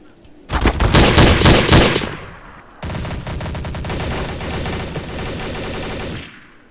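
Rapid automatic rifle fire in Counter-Strike: Source on Dust 2, two loud close bursts, a short one and then a longer sustained volley, with a brief gap between them.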